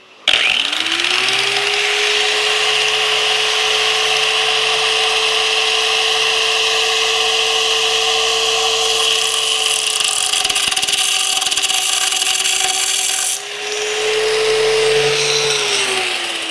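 A power tool whines steadily as it cuts a flathead slot into a stuck screw on a used Harley-Davidson motorcycle, a loud continuous grinding drone running throughout with a brief dip near the end and no talk.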